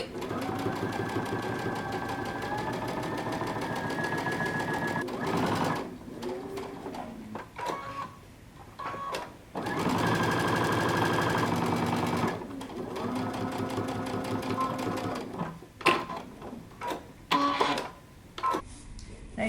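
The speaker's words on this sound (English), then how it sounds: "we're going to stitch all the way around our pocket using 5/8 of an inch seam" A sewing machine stitches around a jumpsuit pocket, running in steady whirring bursts near the microphone with short pauses between runs.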